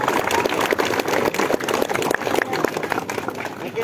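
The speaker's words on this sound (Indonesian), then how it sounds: "Ayo tepuk tangan sekali lagi buat." A crowd of football supporters in Majalengka claps at a peace declaration: dense, fast, continuous applause filling the whole stretch, with voices mixed in.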